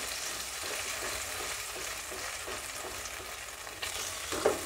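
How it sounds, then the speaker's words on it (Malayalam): Ground masala paste fries in oil for a paneer curry, a dense continuous sizzle broken by rhythmic scraping strokes of a spoon stirring it, close and moderately loud, with no voices. "ഇതിലേക്ക് നമുക്ക് അരച്ച് വെച്ചിട്ടുള്ള മസാല ആഡ് ചെയ്ത് കൊടുക്കാം. ഇത് നന്നായി ഒന്ന് ഇളക്കണം കേട്ടോ."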